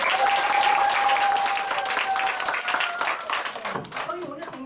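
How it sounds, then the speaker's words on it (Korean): An audience at a company group meeting gives a presenter a round of applause, dense clapping from many people that starts loud and gradually thins, with a faint tone and a voice emerging toward the end. "다시 한번 우리 장미라 사장님께 큰 박수 부탁드립니다"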